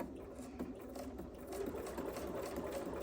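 A sewing machine runs steadily, stitching a scant quarter-inch seam in fabric. The needle whirs and chatters rhythmically and continuously up close, with no talking.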